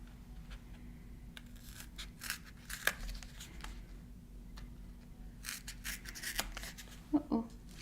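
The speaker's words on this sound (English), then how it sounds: "I'm going to cut this down a little bit." A few soft, scattered snips as scissors trim paper for small craft stamps, quiet and close, with light handling noise between cuts.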